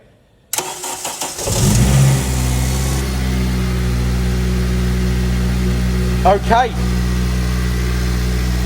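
A car engine cranks and catches after a jump start from a GOOLOO booster pack, then settles into a steady, loud idle, with a short spoken word near the start.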